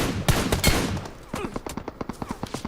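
A DP-28 machine gun fires in the battle royale game BGMI, starting with a few loud close bursts and then settling into a rapid, evenly spaced string of sharp shots.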